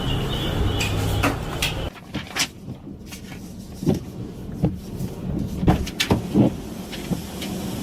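A car door is unlatched and swung open during a roadside police encounter: a few sharp clicks and clunks over a steady low rumble, fairly close.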